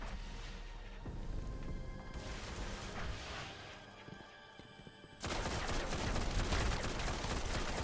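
Video game gunfire, with sporadic shots and clatter that break into a dense, loud, continuous burst of rapid fire in the second half.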